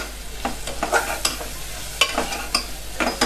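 Spices with turmeric and red chilli stirred into frying dal khichdi, a soft sizzle under repeated scraping strokes of a spoon at a steady, uneven rhythm, close and fairly loud.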